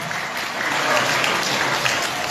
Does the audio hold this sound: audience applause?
yes